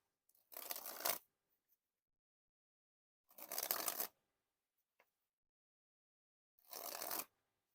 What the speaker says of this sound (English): The dribbles were nice and smooth there.